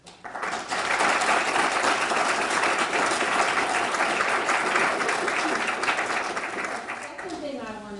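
Audience applause at a class session: many people clapping loudly and steadily in a room after a short lead-in, tapering off before a voice resumes talking.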